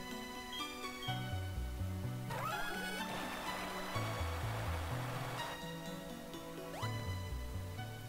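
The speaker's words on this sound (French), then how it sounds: "Une cascade." A rushing waterfall in the video game Pokémon Platinum, a steady broadband wash of water that swells in over game music and fades back out after a few seconds, with no talk.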